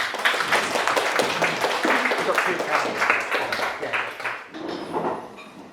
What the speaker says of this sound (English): Can we give a huge round of applause to Pointy?